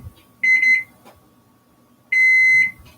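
Two loud bursts of a microwave oven timer beeping in a kitchen, each a rapid run of high electronic beeps, with a quiet pause between them.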